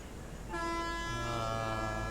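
After a moment of low rumble, a train horn sounds one long, steady blast that carries on to the end.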